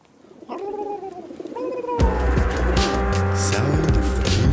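A pigeon coos twice in a podcast intro, each call a soft, rounded, falling note. The coos are close and clear, then give way to steady music that fills the rest.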